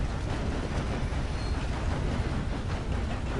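A train running in the video game Red Dead Online makes a steady, dense rumble with a constant wash of rattling noise and no clear breaks.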